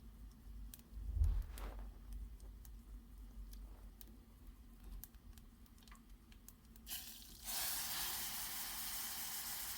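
Peanut dal gets its tempering of hot oil, a faint hiss that builds into a loud, steady sizzle in the last few seconds after a quieter stretch of small kitchen clatter.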